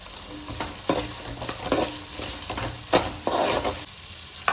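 Onions sizzle steadily in a hot pan for chicken gravy curry, broken by repeated scraping strokes of a spoon stirring them, close and clear with no talk.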